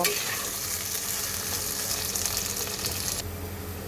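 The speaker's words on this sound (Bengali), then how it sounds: "আলুটা যখন ভাজা হয়ে যাবে তখন দিয়ে দেব সেদ্ধ করা" Boiled and raw potatoes with green chillies fry in a pan, giving a steady, close sizzle and crackle throughout with no talking.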